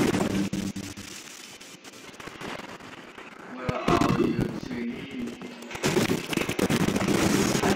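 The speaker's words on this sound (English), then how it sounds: "I'll bomb these trees for pills" Explosions from bombing trees in Fortnite, several sharp blasts and crackling bursts, with louder booms in the second half mixed with game sounds.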